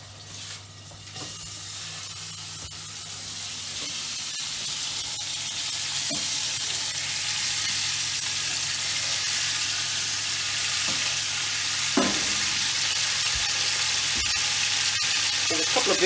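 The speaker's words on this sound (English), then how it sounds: "You hear that sizzle?" Lamb sears in a very hot pan, a loud, steady broadband sizzle that builds after the first second and continues without pause, with occasional pops and crackles.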